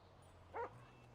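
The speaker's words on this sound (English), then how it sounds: "Look at that puppy." A puppy lets out a single short, faint yip or whimper in the middle of quiet background hum.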